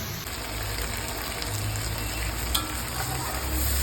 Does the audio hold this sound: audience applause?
no